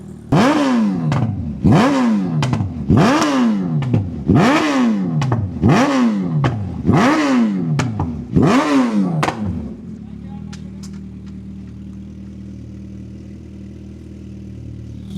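A Gen 3 Suzuki Hayabusa, untuned and on its stock exhaust, is revved about eight times in quick succession, each rev rising and falling loudly up close, then the engine settles into a steady low idle.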